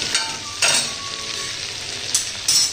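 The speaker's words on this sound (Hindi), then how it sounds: "अब मैं इसमें प्याज ऐड कर रहा हूँ।" Onions sizzling and frying in browned ginger-garlic paste for restaurant-style dal makhani, a steady close crackle with a few sharper bursts as the pan is stirred, and no voices.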